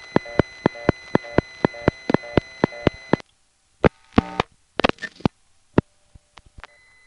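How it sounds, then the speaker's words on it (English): A telephone exchange fast busy signal at Kennedy Airport pulses in short, evenly spaced tones, then gives way to scattered irregular beeps and clicks with gaps of silence. "The one we're hearing in the background here has short little buzzes."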